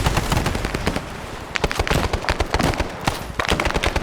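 Dense, heavy gunfire rattles through a Vietnam-era military game battle, with rapid overlapping machine-gun bursts and single shots cracking near and far in an unbroken barrage.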